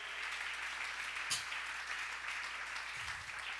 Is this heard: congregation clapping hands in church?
yes